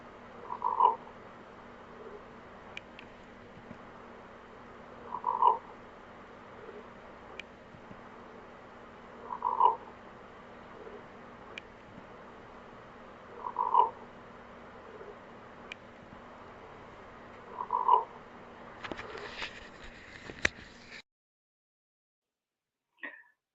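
A recorded croaking, growl-like call repeats about every four seconds, five times, each a short low rasp over steady background hiss, with a brief burst of noise before the recording cuts off.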